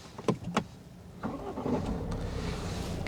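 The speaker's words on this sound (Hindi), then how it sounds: "तो यहाँ पर आपको मिल जाता है स्टार्ट स्टॉप बटन। मैं स्टार्ट कर देता हूँ इस गाड़ी को।" A 2021 Tata Safari SUV started with its push start-stop button: a couple of sharp clicks, then the engine catches and settles into a steady, low idle hum close by.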